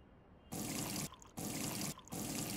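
Water pours into a brew in the Brewpub Simulator game, coming as three bursts of steady splashing that each last about half a second, with short gaps between them.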